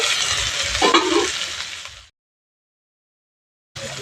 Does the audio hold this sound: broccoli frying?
yes